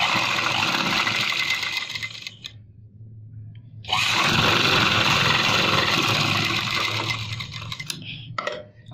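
An electric sewing machine stitches the back neck of a blouse in two long runs of loud, rapid, even whirring, with a short quiet pause between them and a few faint clicks at the end.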